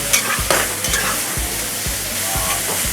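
Marinated meat for chilli pan mee fries in a hot pan, a steady loud sizzle broken by regular scrapes and clanks of stirring roughly every half second, close up and without talk.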